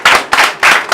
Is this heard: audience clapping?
yes